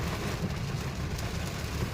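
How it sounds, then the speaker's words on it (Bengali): Dense, roaring rain pours down steadily with a heavy rumbling wash and no pauses, and no one speaks. "মাঝে মাঝে এমন মুষলধারে বৃষ্টি আরম্ভ হয়ে যাচ্ছে যে কিচ্ছু দেখা যাচ্ছে না"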